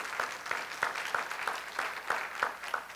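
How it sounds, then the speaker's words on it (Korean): Scattered, fairly sparse applause at a church service greets a visiting missionary, with individual claps landing in a loose, roughly regular rhythm at moderate volume. "우리 한번 박수로 환영해 주시기 바랍니다."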